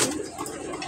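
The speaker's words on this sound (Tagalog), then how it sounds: "papakain na tayo ng mga kalapati natin" Pigeons coo steadily and close by at a training loft, a dense layer of soft, throaty calls running through the short moment with no talk over them.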